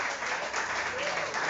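Church congregation at an evening service applauds, a brief unbroken wash of many hands clapping with faint voices mixed in.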